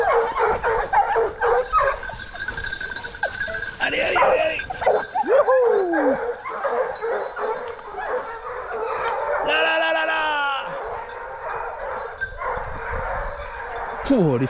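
Hunting hounds baying and yelping during a chase, several dogs calling in bursts at middle distance with a drawn-out howl near the end, mixed with people talking outdoors.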